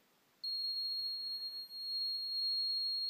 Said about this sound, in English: until the buzzer goes off and a green light will come on